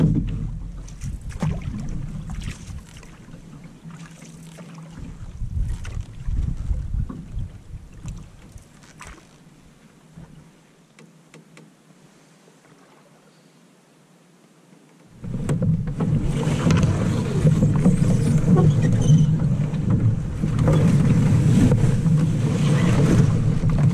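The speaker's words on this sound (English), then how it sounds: "the wind picked up a little bit" Wind picking up on a lake while out boating: gusty microphone rumble and water buffeting, fading to a lull before surging back loud and steady for the last stretch, with no voices.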